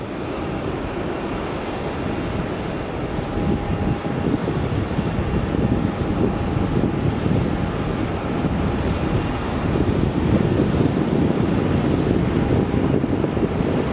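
An airliner landing at Melbourne Airport, its engine roar and rushing wind swelling steadily and staying loud across the whole stretch, heard from nearby with no talk.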